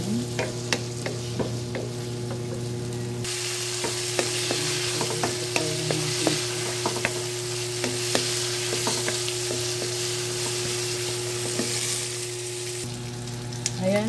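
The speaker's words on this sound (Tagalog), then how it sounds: "Meron tayong lagyan natin ng pork. Ayan, saute lang tayo." Pork sautéing in a pan for pancit bato gives a steady, close sizzle and frying hiss for about ten seconds, with scattered clicks of stirring throughout and no talking.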